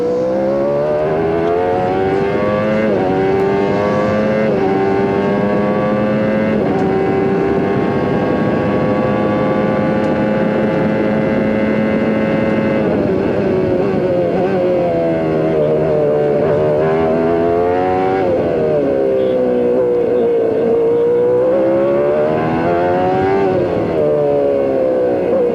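A loud 1994 CART IndyCar engine at Mid-Ohio screams continuously, its pitch climbing and dropping sharply with each gear change, no voices over it.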